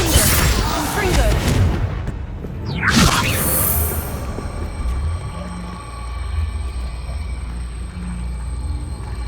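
Confringo blasting spell cast in Hogwarts Legacy, a burst of whooshing fire and booming impacts set amid busy game combat noise, with a voice calling out spells over it.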